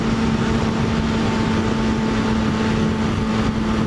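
Yamaha FZ6R motorcycle pulling hard under acceleration on a commute, a loud continuous engine roar mixed with heavy wind rush, with no pauses and no talk.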